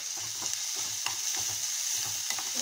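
Ginger and garlic sauté in a hot pan under a constant close sizzle, with a spatula scraping and stirring in a quick, uneven rhythm of soft knocks.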